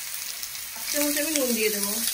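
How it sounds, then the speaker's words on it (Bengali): Ridge gourd frying in a pan for a Bengali jhinge posto dish, with a steady sizzle under a brief spoken remark. "ভালো করে নেড়ে চেড়ে আমি একটু লাল করে ভেজে নেব"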